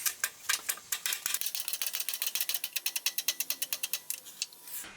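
A shop press works a needle bearing during an '85 Dodge Ram W350 dually repair. It gives a rapid, evenly spaced series of sharp ratcheting clicks that speed up and then stop, close and fairly quiet.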